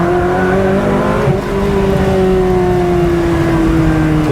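A Ferrari 360 Modena Spider's V8 engine revs loudly and close, a sustained, steady high-pitched wail that climbs slightly and holds throughout.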